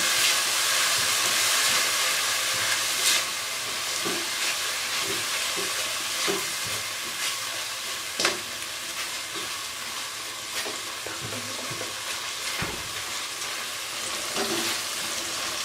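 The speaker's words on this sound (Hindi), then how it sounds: "अब मैं इसको तकरीबन 3 मिनट तक अच्छे तरीके से भूनूंगी" Tomato puree masala sizzles in ghee in a pan, a constant frying hiss broken by repeated spoon scrapes and occasional sharper clinks, with no one talking.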